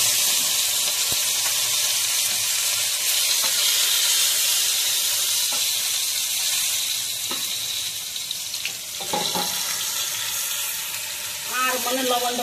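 Okra (bhindi) hitting a hot pan for Hindustani-style bhindi, a steady loud hiss and sizzle running throughout, with faint clatter near the end.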